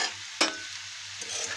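Marinated mushrooms sauté with browned fried onion in a pan, giving a soft steady sizzle with one sharp stir-scrape near the start, quiet and close with no talk.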